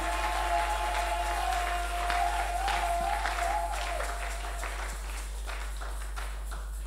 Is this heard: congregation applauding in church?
yes